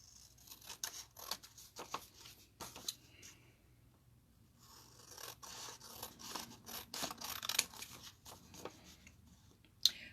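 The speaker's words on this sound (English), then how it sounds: "Let me trim my envelope" Scissors trim a paper envelope at close range in a series of quiet snips and crisp cuts, with faint paper rustling between them.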